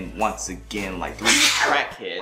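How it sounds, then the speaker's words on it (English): A person sneezes once while sitting on a couch, a sharp burst close to the microphone, surrounded by speech before and after. "Sneezing on the couch on the real."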